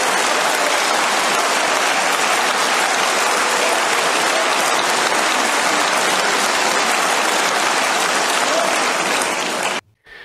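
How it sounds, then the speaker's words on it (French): A large audience breaks into loud, sustained applause after a speech, a thick steady wash of clapping for nearly ten seconds that cuts off abruptly at the end. "tout ça dans un tonnerre d'applaudissements"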